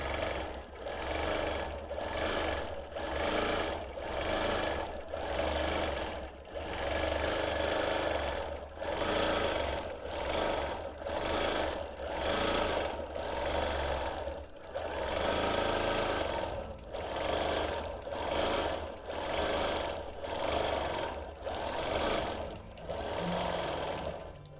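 A domestic sewing machine free-motion quilts a five-pointed star on a Quilt of Valor, running in steady bursts of rapid mechanical stitching with short pauses between runs and no voices.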